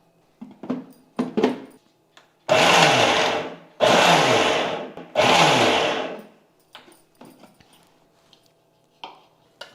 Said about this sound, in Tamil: அந்த பல்ஸ் மோடில் வந்து நம்ம அரைச்சி எடுத்துக்கணும்.